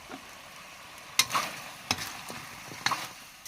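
A spoon scrapes and clinks a few times against a bowl while brown sugar is mixed into a chicken feet marinade, sparse sharp strokes over quiet background hiss.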